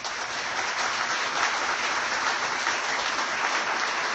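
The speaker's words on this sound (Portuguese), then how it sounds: "eu quero mais uma salva de palmas para ele" Steady, dense applause from a lecture audience honoring a longtime hospital figure, sustained and even throughout with no speech over it.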